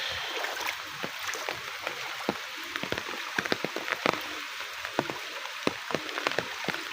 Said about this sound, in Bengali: কালকে পরশু আজকে 3 দিনে অনবরত বৃষ্টি হইতেছে।